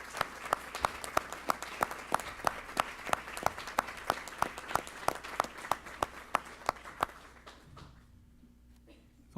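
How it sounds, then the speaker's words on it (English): Audience applause at a school board of education meeting, a scattered run of sharp, distinct claps at a fairly steady pace for about eight seconds, tapering off into near quiet. "they deserve a well round of applause for what they accomplished in 3 weeks"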